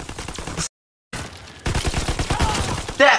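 Video game gunfire from Call of Duty WWII, a burst of rapid shots, then a short dropout and more dense firing that swells louder at the end; no talking.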